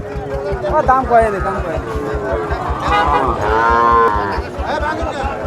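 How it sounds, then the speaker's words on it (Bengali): Sahiwal bull calf, ten to eleven months old, at a Nilphamari cattle market, moos in several drawn-out, wavering calls, close and loud over a steady low rumble and background crowd chatter. "এটা কি কি জাতের বাছুর এটা সাইওয়াল"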